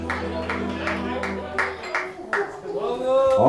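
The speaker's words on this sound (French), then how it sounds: "Oh, c'est les applaudissements, ça." Audience applause at a French concert: a steady run of claps over a lingering sustained musical tone, the claps growing denser and louder as the tone cuts off and the sound swells at the close.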